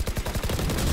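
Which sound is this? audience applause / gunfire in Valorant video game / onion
gunfire in Valorant video game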